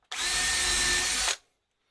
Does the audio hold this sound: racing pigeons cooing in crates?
no